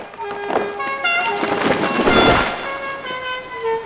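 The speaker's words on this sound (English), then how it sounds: "Then suddenly, there is a loud honking noise." A loud car horn from a flying car honks in stacked tones over a busy, bright background, rising to a peak mid-way before easing off while the honking tone persists to the end.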